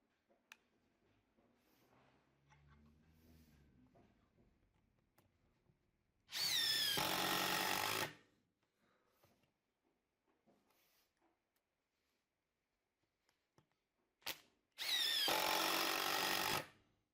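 DeWALT DCF850 impact driver run in its second mode, two loud bursts of rapid hammering impacts, each about two seconds long, separated by quiet handling noises, close to the listener.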